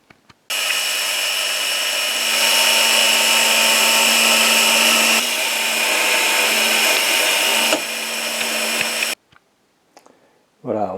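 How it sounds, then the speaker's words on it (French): A 35 mm wood bit bores a hole through a wooden block as part of building a cyclone chip vacuum: a loud, continuous drilling roar for about eight seconds that shifts pitch slightly, then stops abruptly. "il me reste maintenant à faire le trou avec la mèche à bois de 35"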